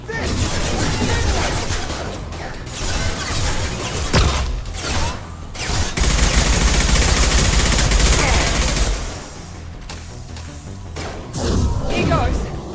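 Heavy, sustained gunfire from Mass Effect combat, with dense automatic bursts and crashing impacts that keep up nearly the whole time, mixed with voices speaking over the action.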